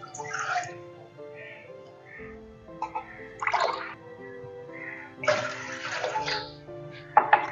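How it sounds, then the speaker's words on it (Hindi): Two cups of water poured into a pot of herbs, among them fig, jujube and flowers, for a cough and cold remedy: intermittent close splashing pours in short bursts, with a voice speaking in between. "2 कप पानी के ऐड करेंगे।"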